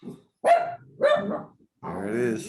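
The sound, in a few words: dog barking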